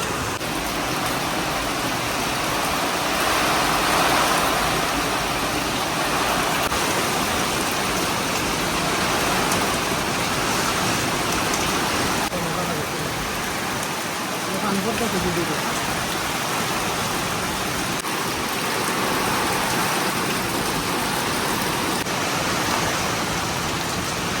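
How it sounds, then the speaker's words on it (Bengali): Heavy, continuous rain pours down steadily in a village during the monsoon season, a dense, unbroken hiss of falling water that stays even and loud for the whole stretch, with no talk over it. "মানে বিরামহীন ভাবে বৃষ্টি পড়তেছে সারা দিন"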